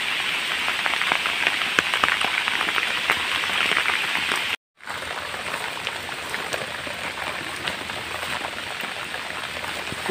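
Steady, dense rain hits a surface nearby as an unbroken hiss, dropping out briefly for a moment before continuing at the same level.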